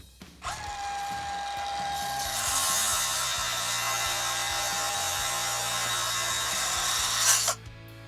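A Klein ModBox wall rail is cut to length with a power tool, making a loud, steady grinding whine that runs for about seven seconds before stopping abruptly.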